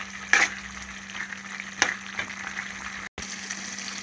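Ginger garlic paste sizzles in a pan at a low, steady level, with a couple of sharp stirring clacks and a brief dropout near the end.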